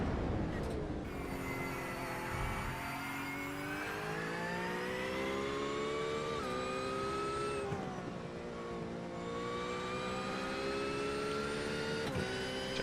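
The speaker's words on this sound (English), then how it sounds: "Porsche sounds so different compared to those other cars" A Porsche GT3 race car engine in a racing video game wails continuously, its pitch climbing through the gears with sharp drops at each upshift, loud and steady with no voices.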